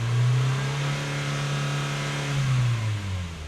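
A 2001 Nissan Silvia S15 Spec S with an SR20 engine holds a steady raised idle around 3,000 rpm, a smooth continuous hum, then revs slightly higher before dipping back down near the end.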